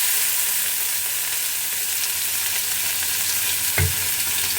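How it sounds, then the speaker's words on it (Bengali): Freshly washed potato, pumpkin and bitter gourd sizzle in hot oil, a loud, steady frying hiss with one brief clatter of stirring near the end. "গরমের মধ্যে মানে ধোয়া জিনিসগুলো দিচ্ছি তো, ওই জন্য এটার মধ্যে আওয়াজ হচ্ছে।"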